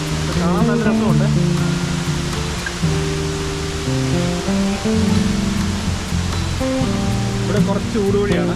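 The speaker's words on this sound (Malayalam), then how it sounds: "അത്യാവശ്യം നല്ല ടോപ്പിൽ നിന്നാണ് വെള്ളം വീഴുന്നത്." Water drops from a tall waterfall in Kerala, making a continuous rushing hiss beneath a melodic, voice-like tonal layer that comes and goes throughout.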